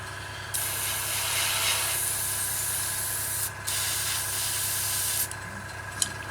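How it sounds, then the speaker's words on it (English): A small airbrush compressor runs while grey paint is sprayed onto a 1/48 Eduard Messerschmitt Bf 109G-6 scale model, giving a steady close hiss with a low motor hum beneath, cut by brief pauses and a sharp click near the end. "As my compressor just turned on."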